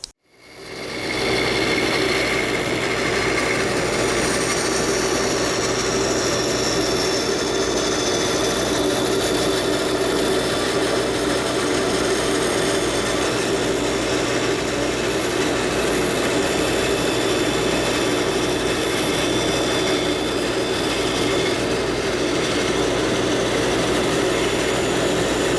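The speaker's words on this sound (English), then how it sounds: "So let's go over the bandsaw and get this cut." Bandsaw fitted with a 1/4 inch blade cutting a sweeping curve in wood, a loud steady whining roar that starts abruptly and runs continuously without pause.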